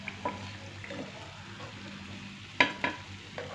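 Slices of bread frying golden brown in oil in a pan for a milk bread dessert, a faint, steady low sizzle with a few sharp utensil clicks near the end.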